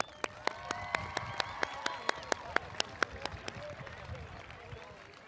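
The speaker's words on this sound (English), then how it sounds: "Let's have a round of applause for our Mustangs." Sharp, rhythmic clapping from a crowd at a school stadium event, about fifteen evenly spaced claps cutting through a busy murmur of voices before the clapping fades into general crowd noise.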